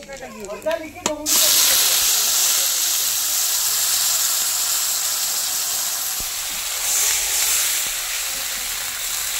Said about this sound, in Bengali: গরম হয়ে গেছে, এবার আমি কালো জিরেগুলো দিয়ে দেবো।